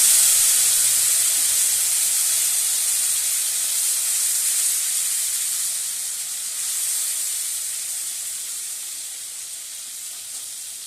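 Onion, garlic, tomato and green chilli paste hitting hot oil spiced with cumin and bay leaves, a loud steady hiss of sizzling that slowly softens over about eleven seconds, no voices.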